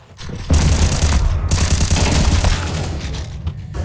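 A grenade blast in a video game, with dense booming gunfire and explosions rumbling continuously and loudly through the clip, briefly dipping before resuming.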